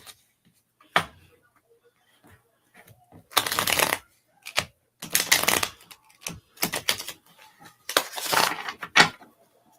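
Tarot cards being shuffled in several bursts of rapid riffling, close up and crisp, separated by short quiet pauses.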